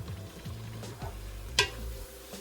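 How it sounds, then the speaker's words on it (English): Ground beef browning in a pan beside a pot of water for lasagna noodles, a faint low sizzle with quiet stirring scrapes and one brief sharp clink of a utensil against the pan. "as you can see, I'm browning off for ground beef"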